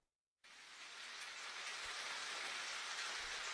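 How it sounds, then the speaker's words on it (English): Steady rain in The Walking Dead: 400 Days hisses in after a moment of silence, a constant even wash of falling drops, no voices. "It's raining."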